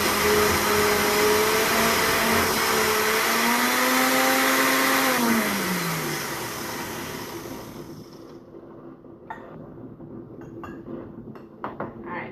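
A loud blender grinds and whirs, crushing ice from an Icee into slush, then winds down in pitch and stops, followed by a few light clinks of glass.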